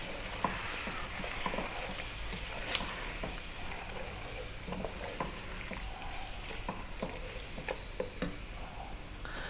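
Whole green cardamom, cloves, cumin seeds and bay leaf stirred in a hot pan for Arab-style beef rice, a steady sizzle with scattered sharp ticks and scrapes as the spices are mixed.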